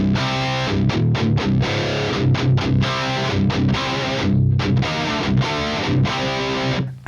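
Marshall Silver Jubilee 2525H amp played without overdrive pedals gives a loud, gritty, distorted electric guitar riff with chugging palm-muted rhythm and short pauses between chord bursts, close and alone.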